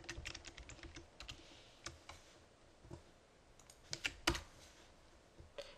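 Typing text on a computer keyboard during a GIMP image-editing session: irregular clusters of quick, light key clicks with brief pauses and a few sharper, louder strokes, fairly close and with no speech.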